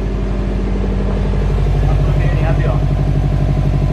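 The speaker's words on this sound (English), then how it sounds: "we'll show you guys exactly how the XFORCE exhaust sounds on the Subaru WRX STI" Subaru WRX STI fitted with an XFORCE exhaust (also listed with Invidia) idling and revving, a loud steady rumble with a rising rev near the middle, with people talking over it.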